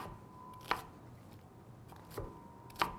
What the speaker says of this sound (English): we're chopping it about the same size as we did the other ones